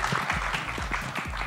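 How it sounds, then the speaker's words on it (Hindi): Audience applause at a Bollywood trailer launch for the film Baadshaho, clapping sustained and fairly loud throughout the short stretch, with a few faint voices mixed into the crowd noise. "तो विद्युत जामवाल के लिए एक बार जोरदार ताली होनी चाहिए"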